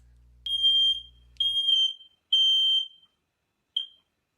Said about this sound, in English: His quest to turn off the fire alarm, and he set off another one.